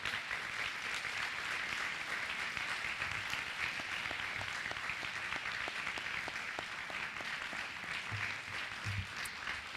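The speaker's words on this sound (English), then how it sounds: "Graduates, let's take a moment and have you give a round of applause for those in the room who have helped you get where you are" Graduates at a graduation ceremony give a long, steady round of applause for their supporters in the room, a continuous crowd wash of clapping with a few distinct nearby claps, no talking.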